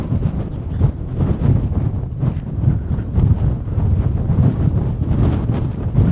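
Strong gusting wind batters a high mountain fortress perched around 2,000 metres up, a loud continuous roar of buffeting against the microphone that surges and eases without pause, with no one speaking.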